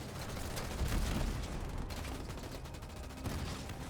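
A mag blast explosion in Halo Wars 2, heard amid a steady clatter of gunfire and rumbling battle noise, with a louder burst of impacts near the start.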